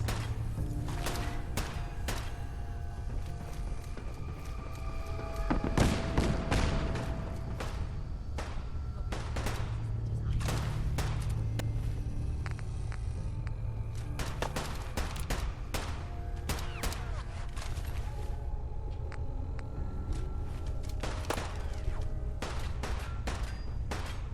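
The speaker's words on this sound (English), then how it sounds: "in the middle of a firefight, and if I get too close, then I'm gonna be in the crossfire" Steady bursts of gunfire and scattered shots crackle throughout a busy firefight in the video game Fallout 4, with occasional heavier thuds and a dull background rumble.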